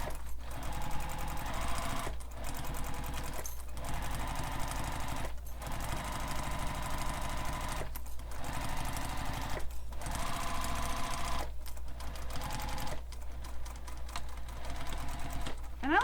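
Sewing machine stitching a seam down one side of a sling pack, a steady close mechanical whir in several long runs broken by short pauses, with no talk.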